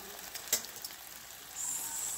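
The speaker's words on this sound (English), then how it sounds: "Searing it, getting it," Chicken sears in a pan during home dinner cooking, a steady soft sizzle with a brief sharp crackle near the start and a brighter hiss rising toward the end.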